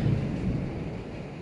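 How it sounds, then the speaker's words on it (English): Low rolling thunder from a thunderstorm, a steady rumble with rain, heard from indoors and fairly loud, with no talking. "It's lightning and thundering out there."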